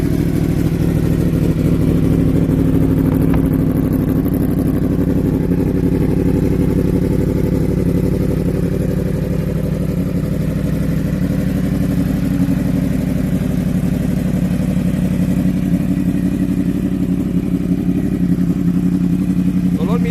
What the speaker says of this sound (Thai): ฟังเสียงท่อกันนะครับผม